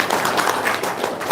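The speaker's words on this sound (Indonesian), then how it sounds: "Tepuk tangan dong untuk Pak Hengki." Brief burst of applause for Pak Hengki from an audience at a talk, steady scattered hand clapping filling the short moment at moderate volume.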